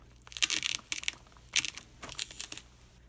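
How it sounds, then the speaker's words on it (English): An X-Acto knife cuts through styrofoam in short bursts of squeaky, crunchy scraping, about five separate strokes with brief quiet gaps between them, close and fairly soft. "I find cutting styrofoam is easiest with an X-Acto knife."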